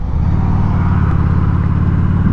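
A Honda Shadow Phantom 750 cruiser motorcycle's engine drones loud and close at steady cruise during a test ride, a continuous low rumble with wind rush over it and no pauses.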